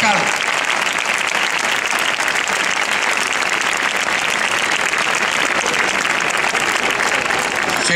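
Loud, sustained applause from a large crowd at a street event in Sevilla, steady dense clapping filling the whole stretch, with voices mixed in.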